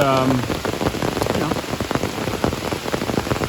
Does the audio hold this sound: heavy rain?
yes